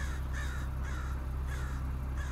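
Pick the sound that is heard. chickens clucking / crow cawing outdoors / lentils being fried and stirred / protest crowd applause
crow cawing outdoors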